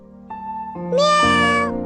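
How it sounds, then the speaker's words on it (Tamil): A kitten gives one clear, close meow that rises in pitch and stretches out for about a second. "சமத்து பூனைக்குட்டி."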